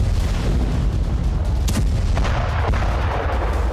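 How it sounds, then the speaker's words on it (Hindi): Artillery fire during Ukrainian attacks on Russia: a continuous low, heavy rumble with a few sharper distant booms rising out of it, and no voices. "ट्रंप के ग्रीन सिग्नल के बाद यूक्रेनी फोर्स रूस में नॉन-स्टॉप हमले कर रही है।"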